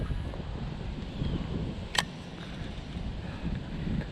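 Strong wind rushing over the mic on a lake during bass fishing from a boat, a steady broadband roar with one brief sharp click in the middle.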